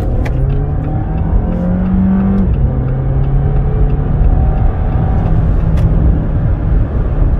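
A Jeep Renegade 4xe Trailhawk plug-in hybrid, 240 hp, accelerates on the road with a steady, rising engine drone that shifts pitch partway through, heard continuously and fairly loud from inside the cabin.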